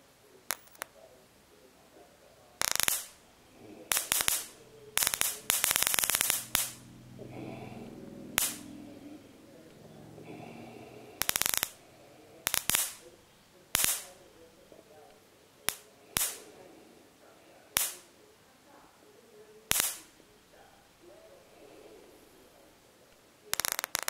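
Sharp, loud electrical cracks of high-voltage sparks snapping from an unmodified Rochelle salt crystal at irregular intervals, some in quick bursts, over a faint background hiss.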